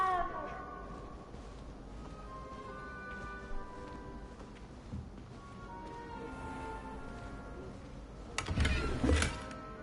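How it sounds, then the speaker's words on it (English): Soft cat meows from the video game Hogwarts Legacy, heard faintly under game ambience, followed by a louder burst of noise near the end. "You can pet cats and everything on here."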